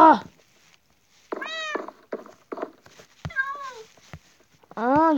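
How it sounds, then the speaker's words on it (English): A tomcat meows repeatedly, several distinct rising-and-falling cries close by with short pauses between them, the last one long and loud. "Here, little tomcat. Come on."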